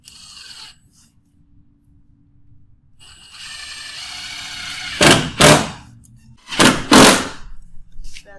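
Three-inch screws are driven into wall studs while framing a wood cornice, a power driver whirring in short bursts, ending with two loud, sharp doubled strikes close by.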